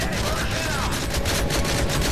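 Dense, rapid gunfire in the game Modern Warfare 3, aimed at cars, crackles continuously at close range, with a loud rumbling bed beneath and a sweeping whine partway through.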